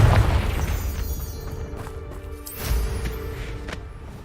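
Confringo blasting spell explosion in Hogwarts Legacy, a deep booming blast up front that decays into a rumbling tail, with a second swell of rumble midway through, no talking.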